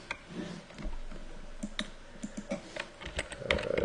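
Typing on a computer keyboard, quick irregular clicks and key taps close by, bursts of keystrokes with short pauses in a quiet room.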